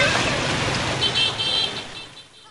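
Steady wash of slow-moving cars churning through knee-deep floodwater on H Del Pilar street in Malanday, Valenzuela, a continuous close roar of engines and splashing with a faint horn toot near the middle.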